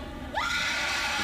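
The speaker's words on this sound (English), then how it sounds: "This is the Screamer." A Screamer zombie shrieking in the video game Dead Island Riptide, a sudden rising high-pitched scream that starts partway through and then holds, loud over game background noise.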